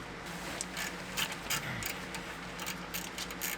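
A ratchet clicks rapidly while 10mm caliper slide pin bolts are loosened on a Ram 1500 EcoDiesel brake job, a close, steady mechanical ticking over a low background hum.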